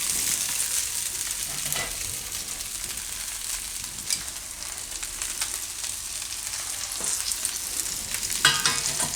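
Soaked poha with dry fruits being stirred in a pan over low heat, a soft continuous sizzle with occasional scraping strokes of a spoon; no voices.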